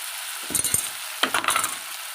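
Ginger frying in a pan for a cucumber and prawn curry, a soft steady sizzle broken by two short bursts of stirring and scraping, close and fairly quiet.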